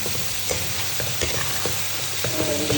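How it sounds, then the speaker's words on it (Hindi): Shredded cabbage and capsicum fry in a hot pan with a steady sizzle, broken up by regular scraping stirs of a spatula, close by and with no voices. "1 से 2 मिनट के लिए फ्राई करेंगे। शिमला मिर्च और बंद गोभी को हमने ज़्यादा फ्राई नहीं करना"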